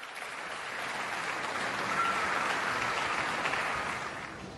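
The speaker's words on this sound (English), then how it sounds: "Please give Mark and Dave a big round of applause." Steady, soft applause from a conference audience, a dense even wash of many hands clapping at a distance, with no talking over it.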